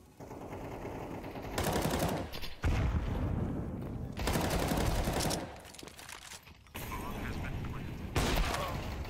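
Rapid automatic gunfire in a competitive premier ranked shooter match: several loud sustained bursts separated by short pauses, with speech mixed in.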